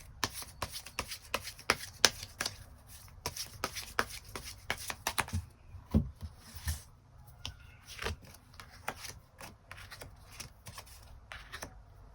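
Tarot cards are shuffled and drawn, giving a quick run of crisp, papery riffles and snaps, close and fairly loud, with brief pauses between bursts and no talking.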